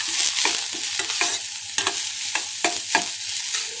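Vegetables sautéing in a pan for clear soup, with a constant sizzle broken by repeated scraping stirs of a spatula at an uneven pace, close and fairly loud.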